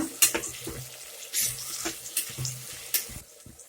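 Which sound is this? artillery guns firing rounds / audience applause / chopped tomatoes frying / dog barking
chopped tomatoes frying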